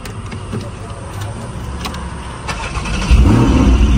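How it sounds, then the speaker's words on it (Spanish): A Porsche 718 GT4 with a PDK automatic gearbox starts up after a few seconds of quiet cabin noise, its engine catching with a sudden loud, deep burst and settling into a strong idle close by. "Vamos a prender. Ustedes saben que el Porsche prende del lado izquierdo."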